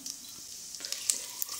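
Cloves, cardamom, a piece of cinnamon, a bay leaf and cumin seeds fry in hot ghee, giving a soft steady sizzle with small scattered pops, close and fairly quiet.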